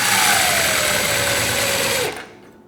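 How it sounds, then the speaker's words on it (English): Impact driver with a Phillips bit tightening screws, a continuous close whirring and hammering buzz with falling pitch that cuts off abruptly near the end. "we can go ahead and get our impact with a Phillips head or a Phillips screwdriver."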